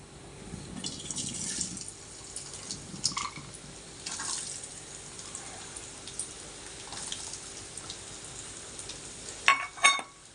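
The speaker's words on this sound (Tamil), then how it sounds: "நெய்யில் இனி இந்த தேங்காயை போடுறேன்" Small pieces of coconut fry in ghee in a pan with a soft, steady sizzle and occasional crackles. A few sharper clinks of a utensil come near the end.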